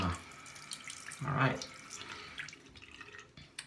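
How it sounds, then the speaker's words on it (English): Tap water splashes onto a Thuringian sharpening hone, a hissing wet rush swelling briefly before tapering to light trickles and drips, with someone speaking a word during it. "there's some water there. I'm gonna drown it. Just a little bit of water."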